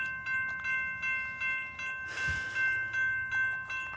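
A southbound Amtrak Talgo train led by a Seahawks-liveried locomotive passes on main track 2, with a steady rhythmic clatter of wheels over rail joints, sustained tones and a brief louder whoosh midway.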